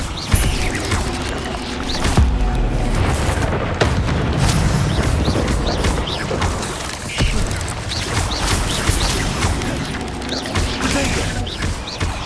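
Incendio fire spell cast in the Hogwarts Legacy video game, heard as dense booming bursts and crackling impacts over a continuous busy game soundscape, with several sharp hits standing out.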